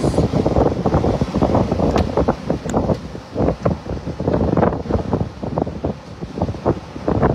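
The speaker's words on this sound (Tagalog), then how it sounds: "Grabing lakas ng hangin." Strong gusts from Typhoon Uwan in Bicol, heard as loud, choppy buffeting and roaring bursts against the microphone that pulse unevenly throughout without any speech.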